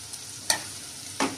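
Green peas frying in hot oil give a low steady sizzle, broken by two sharp stirring scrapes in the pan, close and fairly quiet with no talk.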